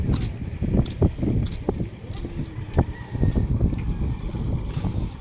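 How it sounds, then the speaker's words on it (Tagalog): A boat carrying students across water, heard as a low rumbling drone with wind buffeting and splashy noise, steady and fairly close. "Nagabangka sila."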